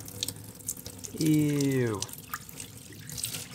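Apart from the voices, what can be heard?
dirty water being dumped out of old Rolls-Royce carpets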